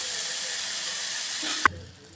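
Ginger garlic paste fries in a pan for a chicken curry, giving a steady, close hiss that cuts off abruptly with a brief clink, after which only a faint low hum remains.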